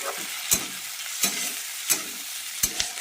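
Onion and tomato frying in a pan, with four crisp scraping strokes of a spoon stirring them at a steady pace over a constant soft sizzle, close and moderately loud.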